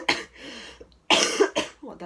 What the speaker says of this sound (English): Only cough.